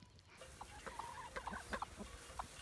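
Chickens clucking and murmuring close by in a dry garden as they follow someone around, a scatter of short soft clucks and calls over quiet outdoor background, with no talk.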